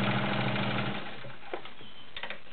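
A vintage Kenmore Model 1750 heavy-duty 1.2 amp sewing machine stitches through five layers of rubber-backed woven upholstery, its steady motor hum running close and loud before easing off into quieter whirring with a few light clicks.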